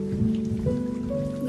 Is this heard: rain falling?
yes